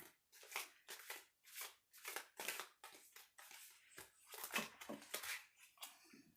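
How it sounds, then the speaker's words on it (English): Loose, slightly sloppy shuffling of a tarot deck during a card reading, a run of about a dozen crisp riffling bursts repeating in quick rhythm, close and clear with no talking over it. "Kind of sloppy shuffling that gets you some jumpers"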